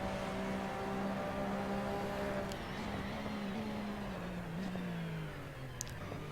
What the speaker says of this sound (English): very unique sound of this Porsche